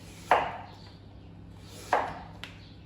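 A knife slicing squash into even pieces on a board: two distinct, fairly close chopping thuds about a second and a half apart, then a faint light tap, over a quiet background hum.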